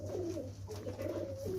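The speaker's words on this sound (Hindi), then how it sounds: "चीना कबूतर है।" A Cheena breed pigeon coos softly in a short series of low, wavering calls over a faint steady hum, close and alone with no talking.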